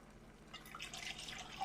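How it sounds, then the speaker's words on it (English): Water swishing around inside a coconut milk can, faint and close, with soft sloshing and rattling splashes building over a second or so. "I put a little water in there and shake it around."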